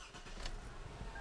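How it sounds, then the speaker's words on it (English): A 2010-2012 Toyota Camry with a 2.5L engine starting up after an alternator replacement, a steady close engine rumble with a brief brighter burst near the start, heard alone. "So let's start our engine and see how it reacts."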